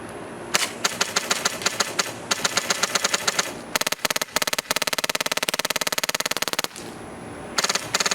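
A UKArms G&G airsoft gun fires BBs in loud rapid bursts, sharp repeated snaps with a mechanical hum beneath, several long strings broken by short pauses.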